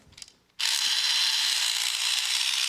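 A 1970 Nikko EXPLO toy robot by Topper Corp runs with its ratchet and gears exposed, giving a sudden, steady, loud mechanical buzzing whir that starts after a brief quiet moment and continues evenly.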